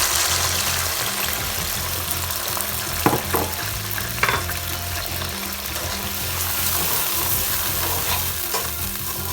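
Sugar, milk and ghee simmer in a pan for a sweet zarda rice dish, giving a steady close sizzle with scraping stirs and a few sharper clinks of the spoon against the pan.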